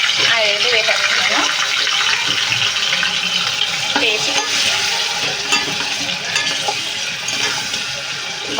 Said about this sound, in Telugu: బాగా ఫ్రై చేసుకోవాలండి ఆయిల్లో అయితే